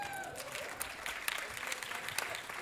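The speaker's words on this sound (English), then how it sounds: "Round of applause." Audience applause for Bassem Youssef at a live forum event, a steady patter of clapping from a fairly distant crowd with a few sharper claps, lasting the whole moment without talk.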